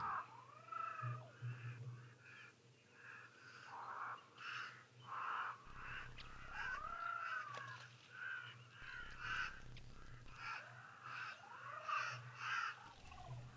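Cape crows call at Okaukuejo, repeated harsh, descending caws from several birds at moderate distance, spaced irregularly over a quiet outdoor background with faint low hum.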